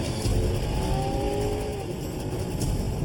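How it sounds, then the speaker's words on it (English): A state trooper's patrol car engine roars at high speed across Fairbanks, Alaska, a sustained revving drone with a rising whine, fairly close and loud throughout. "Trooper Josh Rollo kicks it into high gear and races across Fairbanks."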